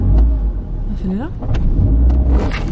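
A car's engine rumbles low and builds as it accelerates from inside the cabin, with a voice talking over the steady motor drone.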